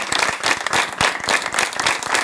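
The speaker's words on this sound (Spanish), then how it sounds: "Eso es lo que quiero, que aceptes el aplauso de los demás" Audience applause at a humor and laughter-therapy talk during a science week event, steady dense clapping from a crowd, fairly close and sustained throughout with no voices.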